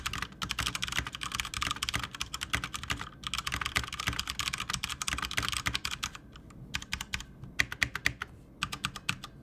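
Rapid typing on a Drevo BladeMaster Pro wireless mechanical keyboard with Cherry MX Brown switches, a dense, steady patter of close, crisp keystrokes with a few brief pauses and no voices.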